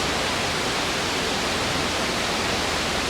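Ezharakund waterfall at Kudiyanmala in Kannur sends out a steady, dense roar of falling water that stays constant and full throughout, with no other sounds.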